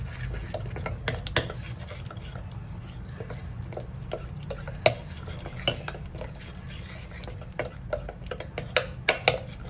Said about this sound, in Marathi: हे बघा थोडंसं पीठ आहे ना राहिलेलं, आणि थोडंसं मिक्स करून घ्यायचं